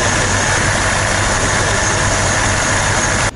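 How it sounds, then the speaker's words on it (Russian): A BMW 7 Series E66 engine idles inside a garage, a loud, steady, dense rumble that stays even and close for a few seconds, with no voices. "Вот прям заснять, как мотор шепчет."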